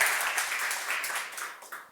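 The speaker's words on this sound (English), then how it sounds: "So those people alone need a round of applause because they're really going to be vulnerable." Audience applause at a presentation skills event, a steady wash of clapping from a seated crowd that gradually fades out.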